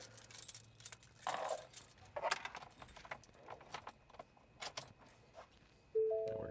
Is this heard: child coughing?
no